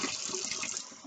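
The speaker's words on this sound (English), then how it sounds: "Turn the water on." A water tap runs into a sink for hand washing, a close, steady rushing stream that eases slightly toward the end, with no talking.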